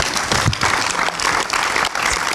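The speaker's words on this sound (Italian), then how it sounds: "Un applauso!" Audience applause at an Italian film presentation, lively and dense claps, fairly close, continuing without pause for a couple of seconds.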